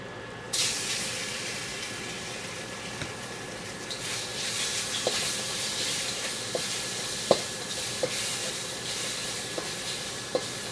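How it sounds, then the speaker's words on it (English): Beef sizzles and hisses steadily in a hot pan with a teaspoon of oil, stir fried, with occasional light clicks of a utensil stirring, close and continuous. "Just keep on stir frying it."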